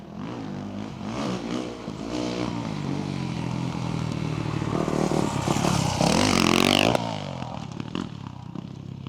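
A 450 dirt bike rips around an indoor supercross track, its engine revving hard and rising through the gears with clattering bursts, then cutting off sharply near the end before faint trailing noise.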